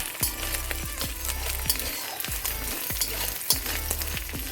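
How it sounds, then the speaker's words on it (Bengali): Crab pieces sizzle in hot oil in a pan, a continuous frying hiss punctuated by regular, evenly spaced knocks and scrapes of stirring; no one speaks. "আমি কাঁকড়াটা দিয়ে একটু ভেজে নিতে হবে"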